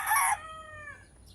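A six-month-old stag, a young white-legged gamecock rooster with a straight comb, lets out one short, loud, close crow that trails off into a fading tail.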